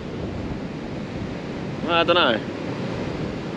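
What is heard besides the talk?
rough surf and wind on Fraser Island beach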